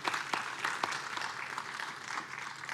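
Audience applause at a workforce skills conference as a guest is welcomed on stage, a steady patter of clapping at moderate distance with a few sharper individual claps standing out.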